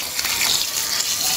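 Cement-laden water pouring onto a gravel layer for a floor slab, a loud, steady rushing gush that stays close and continuous throughout, with no voices.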